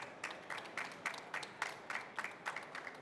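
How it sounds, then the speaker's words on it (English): An audience at a panel discussion on IVF and genomics applauds the panelists: fairly faint, evenly spaced claps repeat in a quick rhythm for a few seconds. "If we could have a big round of applause for them all"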